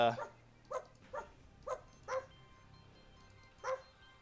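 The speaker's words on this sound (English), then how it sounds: "he keeps floating around and making barking noises" A floating space dog creature in the video game Iron Marines Invasion gives a series of six short, yappy barks at irregular intervals, fairly clear over a quiet background.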